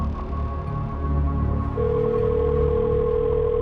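A phone call placed on speakerphone, with a steady electronic call tone coming in partway through and holding loud and constant over a low background of music and room noise.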